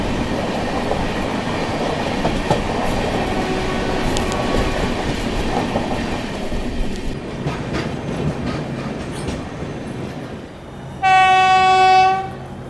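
Garib Rath Express passing at close range on Indian Railways track, its wheels and coaches rumbling and clattering steadily before a loud, sustained horn blast sounds near the end.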